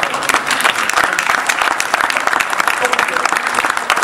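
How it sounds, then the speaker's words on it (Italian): An audience at a talk about cars and motor racing in Modena gives loud, dense, sustained applause that fills the room for the whole four seconds. "Io farei un applauso anche a loro perché loro hanno fatto."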